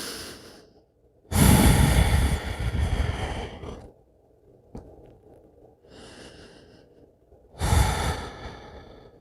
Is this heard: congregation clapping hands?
no